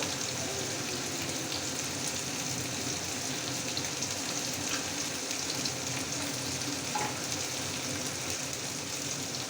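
Dried fish (shutki) frying in a pan, a steady close sizzle and crackle of hot oil that holds an even level throughout, with no talk over it.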